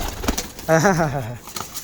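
A single pigeon gives one clear, close coo with a wavering, rolling tone, set among faint background noise and light rustling.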